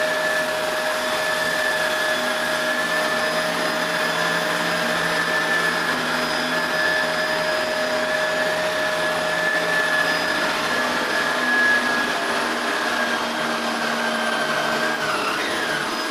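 A Shark Rotator Powered Lift-Away upright vacuum cleaner runs continuously on carpet, a loud close motor drone with a high whine, steady throughout with no voices.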